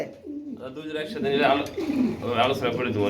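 A male pigeon coos in a rhythmic series of low, throaty calls close by at a pigeon market, with people talking over and around the cooing.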